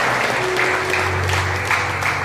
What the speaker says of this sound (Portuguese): Aplauda o Senhor Jesus aí bem forte no seu lugar.